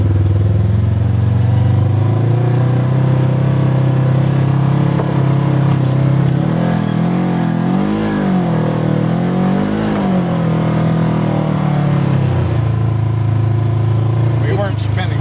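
2022 Polaris RZR Trail Premium side-by-side driving off-road over trees and rocks, a loud continuous engine drone close by that rises and falls in pitch as the throttle varies, with some clatter.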